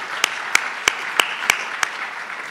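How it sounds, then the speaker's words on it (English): A few hand claps from an audience at a New York state policy address: about six separate, sharp claps spaced roughly a third of a second apart over quiet room noise. "You can applaud on that one, too"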